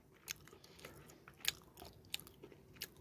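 Someone eating an E-mart kimchi pork cutlet topped with kimchi and cheese, close-up crisp bites and crunchy chewing in a few separate bursts, quiet between bites.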